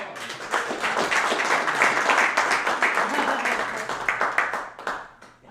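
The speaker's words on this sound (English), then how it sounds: "Let's give a round of Yes, applause" Audience applause at a live money-talk show event, a dense, steady wash of clapping that holds for several seconds before thinning into scattered claps near the end.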